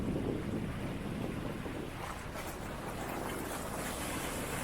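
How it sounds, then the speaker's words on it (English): Water runs and washes over a rock along the shore in a steady, rushing wash, with wind buffeting the microphone and no voices. "Just down there where the water's running over it."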